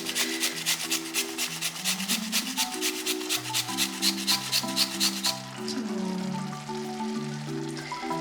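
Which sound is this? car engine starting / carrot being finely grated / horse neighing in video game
carrot being finely grated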